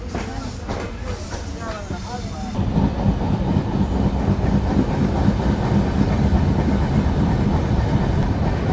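Inside the Sagardari Express passenger train on its rail track, a heavy, continuous rumble swells after a brief softer, voiced opening and then holds loud and even, with a faint rhythmic clatter.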